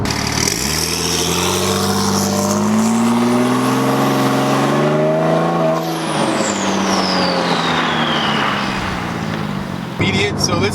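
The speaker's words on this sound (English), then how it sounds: "The pops, the burbles, the turbo spooling, it's very special." A 2008 Porsche 997 911 Turbo engine revs loud and close, pitch climbing through gears with turbo spool whine, then pops and burbles on lift-off over continuous cabin noise.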